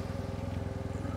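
A Yamaha TMAX 560 TechMax scooter engine running at idle, with a close, even, throbbing pulse that stays steady and quiet, with no talking.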